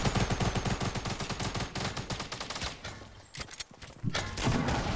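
Gunfire in a first-person shooter video game, rapid close automatic bursts rattling continuously, pausing briefly, then resuming loudly, with no talking.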